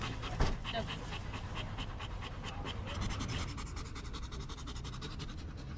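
Several dogs that have just been pulling a bike pant hard and fast close to the microphone, a steady breathy rhythm outdoors with a brief sharp burst near the start.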